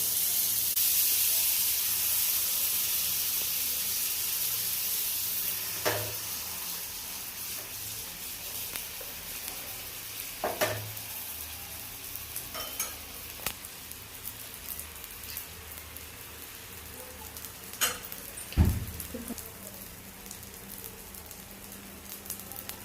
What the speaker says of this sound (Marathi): आता हे चांगलं हलवून घ्यायची आहे भाजी. पाव भाजून घेऊयात.